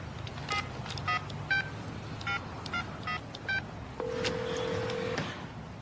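Telephone keypad tones from a French drama series: a quick run of about nine short, crisp beeps at an uneven rhythm, then one longer steady tone, heard clearly with no talking.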